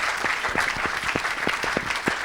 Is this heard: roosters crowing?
no